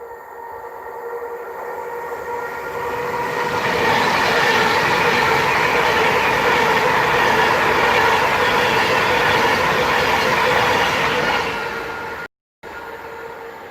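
A Pendolino train passes on the West Coast Main Line north of Crewe, a loud close rush of wheels and rolling noise that swells, holds steady for several seconds and then fades slightly, with no talking.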